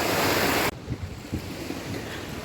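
Black Sea waves washing onto a beach in Odesa on a foggy day, with a burst of wind noise at the start followed by a soft, steady surf wash and gentle surges.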